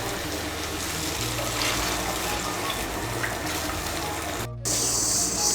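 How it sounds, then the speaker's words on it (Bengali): A cup of hot water is poured over a ground mustard, poppy seed and grated coconut mixture in a pan, making a continuous rushing pour. The stream breaks off briefly near the end, then resumes. "আমি মশলার বাটিগুলো ধুয়ে এর মধ্যে 1 কাপ গরম জল দিচ্ছি।"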